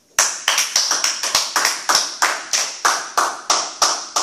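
A church congregation claps in praise of Jesus with loud, steady rhythmic applause, roughly three claps a second in unison, close and strong.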